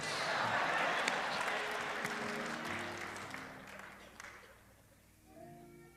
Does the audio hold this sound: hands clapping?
yes